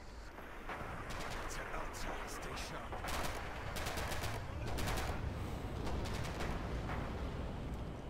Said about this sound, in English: Enemy fire! Enemy fire!